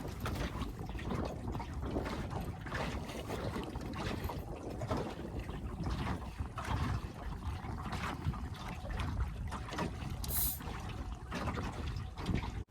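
ePropulsion electric outboard motor running on a small sailboat with the mast left off, a steady low hum under continuous water rushing and wind noise on open water.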